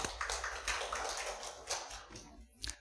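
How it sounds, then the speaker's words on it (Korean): A church congregation applauds, with a steady wash of many hands clapping together that holds for a few seconds before thinning out, moderately loud in a large room. "우리 다 같이 박수 다시 한번 더"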